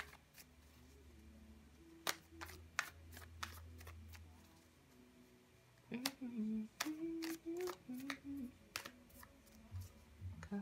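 A deck of tarot cards is shuffled and cut by hand, producing faint, close riffling and flicking with crisp taps and slaps scattered through it, grouped in uneven bursts, with no voices.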